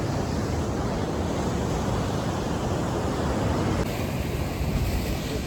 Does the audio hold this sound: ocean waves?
yes